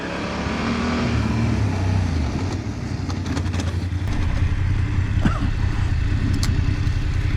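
A motorcycle on a rider-training course holds a steady speed of about 35 km/h and then brakes, rear brake first and clutch last. Its engine drones continuously up close, with a faint squeal partway through.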